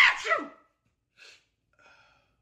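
A person fakes a single loud, sharp sneeze right at the start, in front of a pet Doberman. Two faint, brief sounds follow after a pause.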